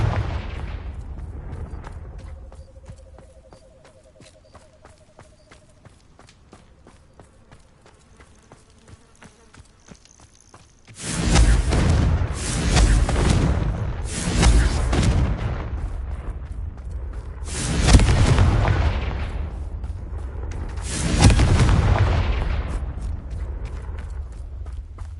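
Loud explosive blasts from a Confringo blasting spell shattering vases in Hogwarts Legacy, five heavy booms in a row after about ten seconds of quiet ambience, each with a rumbling tail.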